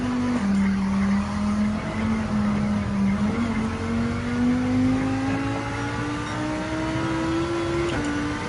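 Race cars in the Gran Turismo 7 video game drive continuously, with a steady engine drone rising slowly in pitch, overlaid with tire squeal and skidding throughout; no speech.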